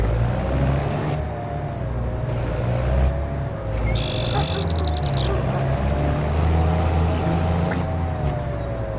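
A farm vehicle pushes through bushes during a soybean harvest, its engine droning steadily with a low hum and a brief high whine, branches brushing faintly alongside.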